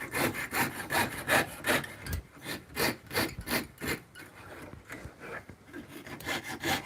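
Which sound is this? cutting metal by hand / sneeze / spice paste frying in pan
cutting metal by hand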